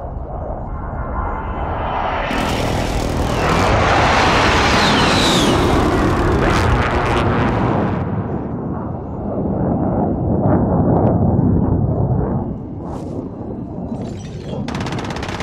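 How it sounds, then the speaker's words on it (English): Precision airstrike in the video game Warzone, a dense roaring barrage of explosions and rumbling blasts that swells, eases briefly, then surges again before tapering off, loud and continuous with no talking. "Enemy precision airstrike."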